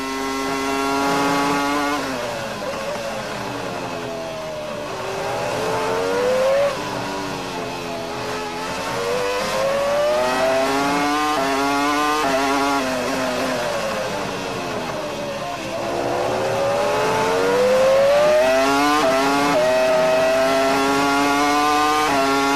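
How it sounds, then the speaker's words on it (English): A Formula One car laps the track in practice at the 2002 Brazilian Grand Prix, its loud, high engine whine rising and falling steadily through gear changes and corners, close and continuous for the whole stretch. "The only car on track ahead of him is Michael Schumacher, who's about 4 corners away."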